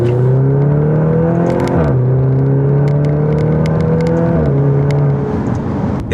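A Maserati Grecale four-cylinder SUV accelerating hard, its engine note climbing steadily through two gear changes with a brief dip at each shift, loud and continuous from inside the cabin.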